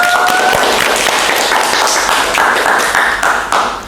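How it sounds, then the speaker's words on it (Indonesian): A studio audience on an interview show honoring an Indonesian national-team archer gives loud, close, sustained applause that thins slightly toward the end. "Kasih tepuk tangan dulu dong untuk Arif."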